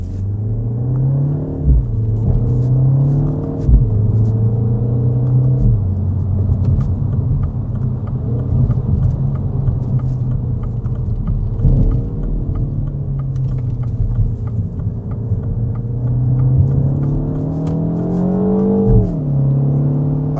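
A Mini Cooper JCW accelerates along a road, its engine droning and rising through gears with brief shift dips, steady and close from inside the car.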